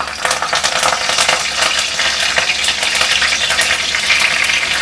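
Bay leaves and curry leaves frying in hot oil for a chicken sukka gravy, a steady close bright sizzle with crackling pops running throughout, no voices.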